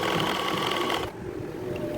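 A sewing machine stitches the outer side of a woman's bag, a fast dense whirring rattle that stops abruptly about halfway, leaving a quieter hum.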